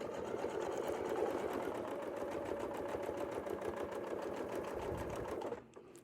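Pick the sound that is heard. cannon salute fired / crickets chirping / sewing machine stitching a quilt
sewing machine stitching a quilt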